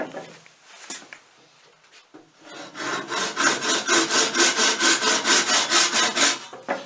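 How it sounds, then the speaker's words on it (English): A basic hand saw cuts through the end of an animal horn being made into a Viking blowing horn, first with a few hesitant scrapes, then with a loud, steady, rhythmic back-and-forth rasp close by. "So now we'll just take very basic saw and just saw it off."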